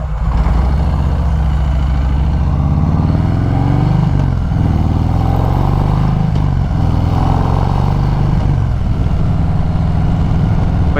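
A 2019 Harley-Davidson Sport Glide's V-twin engine pulls hard on the road, a loud, continuous low rumble with rising and falling throttle sweeps and heavy wind noise, heard up close from the rider's position.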